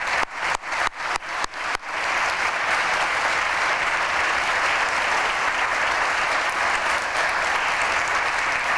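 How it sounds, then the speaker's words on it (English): An awards ceremony audience breaks into loud, sustained applause, opening with a few sharp separate claps before swelling into a dense, even roar of many hands that fills the room and continues without speech. "I hope you'll all join me in just one more round of applause for all of the winners today and all of our honorees"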